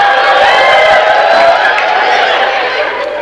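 Church congregation cheering and applauding during a sermon, a loud dense crowd roar with whoops and shouts filling the room close by, holding steady and easing slightly at the end.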